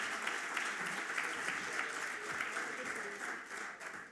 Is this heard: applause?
yes